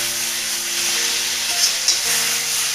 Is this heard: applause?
no